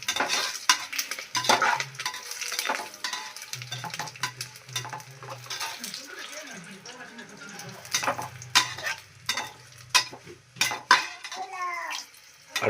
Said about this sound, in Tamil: சோம்பு, இது வந்து கல்பாசி, பட்டை, ஏலக்காய். இது ஒரு கிண்டி விட்டோம்னா